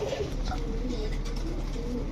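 Rampuri pigeons of Pakistani breeding coo softly and continuously at close range, low throaty murmurs over a steady background hum.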